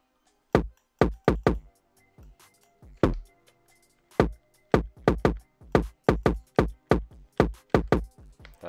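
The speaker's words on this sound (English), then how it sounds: "So I'll show you an example here with this kick." A boosted kick drum sample in FL Studio thumps in a quick repeating pattern of punchy, booming hits, loud and close, with a few short gaps between phrases and no talking.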